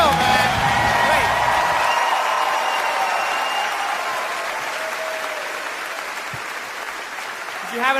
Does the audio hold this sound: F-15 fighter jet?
no